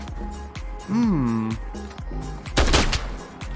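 Shotgun blasts in a Godot-made shooter game, a couple of heavy bursts, the loudest near the end, mixed with game effects while a player talks over the action.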